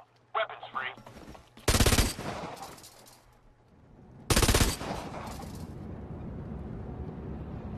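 Gunfire in the video game Special Forces Team X, two loud bursts of rapid automatic fire separated by a quieter stretch, plus a brief earlier volley and a lingering rumbling tail.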